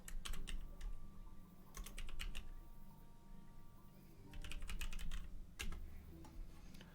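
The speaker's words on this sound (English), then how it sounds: "And my typing is off." Bursts of rapid key clicks on a computer keyboard come close and clear in three separate flurries, with quiet pauses between them.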